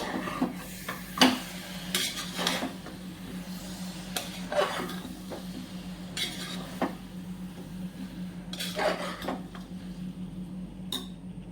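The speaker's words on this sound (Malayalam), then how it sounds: "അപ്പോൾ ഞാൻ നല്ലോണം ഒന്ന് അടിയിൽ നിന്ന് ഫുള്ളായിട്ട് കൊണ്ട് മിക്സ് ചെയ്യാൻ പോകണേ" Macaroni mixture being stirred in a pressure cooker pot, giving irregular scraping and clinking strokes of a spoon against metal at close range over a low steady hum, with no talking.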